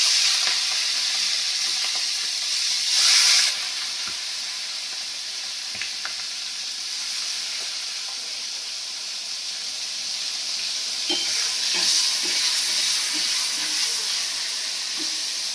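Ray fish and prawns coated in turmeric and salt frying in hot oil, a steady close hiss and crackle of sizzling throughout, with brief surges and faint stirring clicks, no talking.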